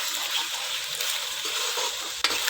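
Minced mutton keema with yogurt being stirred in a pan, a soft continuous sizzle with scraping stir strokes throughout and a sharper clink near the end.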